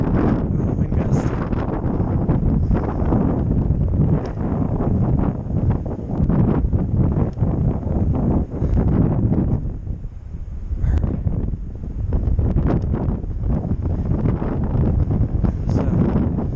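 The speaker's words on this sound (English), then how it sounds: "Ooh, wind gust." Gusty mountain wind on a foggy, snowy Tehachapi Mountain hike among frozen trees, buffeting the microphone as a continuous rough roar with uneven surges and a brief lull near the middle, no speech.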